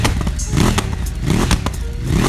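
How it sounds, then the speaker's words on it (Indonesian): Aftermarket Thermic Noni exhaust fitted to a contest-modified Yamaha XMAX scooter, a loud, close engine note with repeated rising revs and a rough crackling rasp, running continuously with no talk. "Gue tahu gimana suaranya knalpot thermic Noni di motor"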